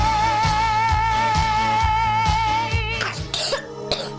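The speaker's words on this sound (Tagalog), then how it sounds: "Ubo ng anak, nakababahala, baka plema." A child's coughing in a Filipino radio advertisement for Plemex for Kids, a lagundi-based cough syrup, comes as a few harsh bursts near the end, following a steady musical jingle.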